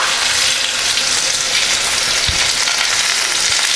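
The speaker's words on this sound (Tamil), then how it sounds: "இந்த மாங்காய் வந்துங்க ஒரு நிமிஷம் பரட்டி விடலாங்க." Raw mango pieces sauté in a hot pan for a mango pachadi, giving a steady, loud broadband sizzle throughout with a brief low thump of stirring near the middle.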